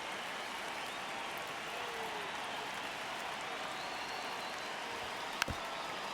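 Fans in Colorado keep up a dense, even roar of cheering and clapping in the baseball game MLB The Show 26, broken near the end by a single sharp crack.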